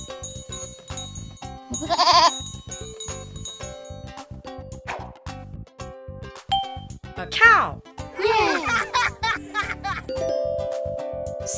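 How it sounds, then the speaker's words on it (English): A cartoon sheep bleats in a children's learning show: a short wavering bleat early on, then a couple of louder quavering bleats near the middle, set over a musical backing. "A sheep."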